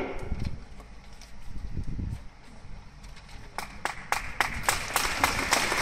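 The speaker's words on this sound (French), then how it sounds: "C'était prévu l'applaudissement pour que je tourne la page." An audience at a protest event breaks into scattered clapping that builds into louder, sharper applause toward the end, over a murmuring crowd.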